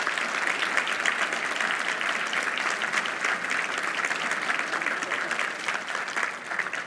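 Applause fills a church congregation, a dense, steady wash of many hands clapping together at an even level for about seven seconds.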